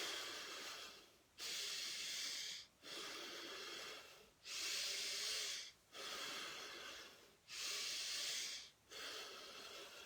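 A person breathes slowly and deeply during guided breathing, with six long airy breaths in and out in a steady rhythm. The breaths are close and soft, separated by short quiet pauses.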